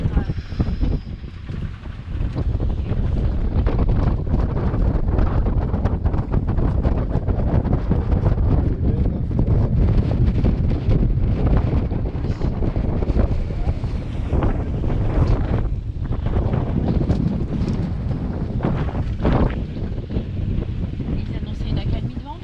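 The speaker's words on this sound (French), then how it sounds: "il y a beaucoup de vent" Strong wind buffets the microphone at Cala Longa beach, Ibiza, a loud, continuous rumbling roar with gusty surges and a wash of surf beneath it throughout.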